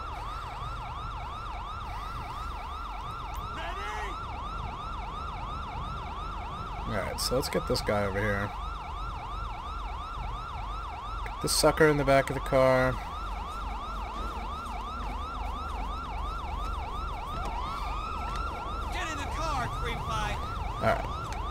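A wailing police siren in the video game GTA V cycles steadily throughout, with someone talking over it and a couple of brief bursts of clatter.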